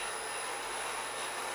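A Hamilton 500 gallon agitated kettle with its scraper agitator running at about one third speed, giving a continuous, even mechanical whir and hiss with a steady hum beneath and no breaks.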